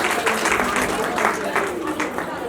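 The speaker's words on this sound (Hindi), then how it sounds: "तो आज के लिए सभी नैनी दीदियों के लिए बहुत बहुत जोर से तालियां हो जाएगा।" Applause from a gathered audience honouring nannies at a women's business event, continuous and fairly loud, mixed with crowd noise and some voices.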